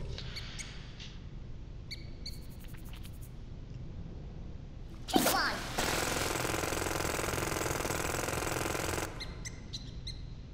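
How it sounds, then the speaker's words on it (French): Jackhammer tool digging downward in the video game Worms Revolution, a sharp impact followed by a steady, loud rattling drill burst lasting a few seconds, with faint squeaky game effects around it. "Donc le marteau piqueur c'est la même chose mais pour creuser vers le bas."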